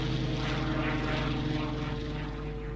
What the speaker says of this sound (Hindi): उसके पास रोल्स रॉयस इंजन वाला स्पिटफायर विमान भी था, जो दुनिया के बेहतरीन फाइटर प्लेन्स में से एक था